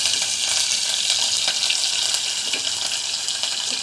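Chopped garlic and green chilies fry in oil in a wok, producing a loud, close, continuous crackling sizzle with faint scraping bursts over nearly four seconds.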